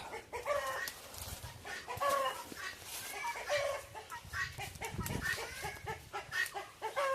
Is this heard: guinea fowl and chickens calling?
yes